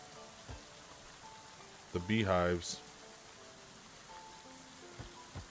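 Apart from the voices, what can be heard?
rain falling in the video game Going Medieval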